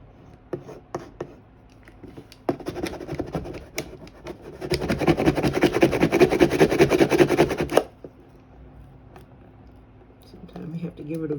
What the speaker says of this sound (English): Sometimes you have to give it a vigorous scraping with the tool, or vigorous burnishing with the tool.